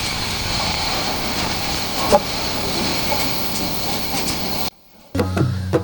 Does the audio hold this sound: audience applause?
no